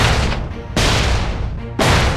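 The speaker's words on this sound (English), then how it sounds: "explosions." Three massive explosions recorded for a sound effects library, each a sudden loud blast with a long rumbling decay, spaced about a second apart.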